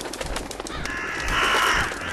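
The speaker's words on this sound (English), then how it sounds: "These crows." Crows caw in the video game Fallout 4, a harsh, repeated calling at night that sits close and fairly loud over a bright, noisy background, thickening into a sustained cry toward the end.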